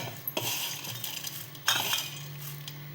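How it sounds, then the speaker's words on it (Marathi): Puffed rice is stirred in a hot kadhai with a metal spoon, making light scraping and clinking strokes in a few quick bursts, close and fairly quiet. "त्यात आता आधी एक कुरमुरे टाकून घेतोय"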